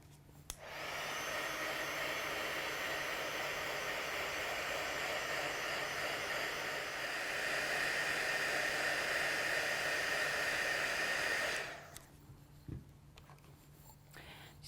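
A hair dryer blows on fabric treated with deColourant, a steady, even whir lasting about eleven seconds before cutting off, leaving a faint click and quiet room tone.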